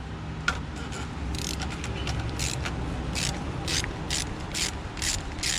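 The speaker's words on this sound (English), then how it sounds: "Get our nice ratchet and just unscrew it." Ratchet with a 15/16 socket on a long extension loosening the oil filter housing of a 2015 Jeep Grand Cherokee, a quick series of close clicking bursts repeating in short strokes over faint background noise.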